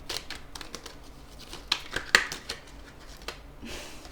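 Tarot cards are shuffled by hand in a quiet room, giving soft papery riffles and flutters with a few sharper snaps and slaps of the deck near the middle.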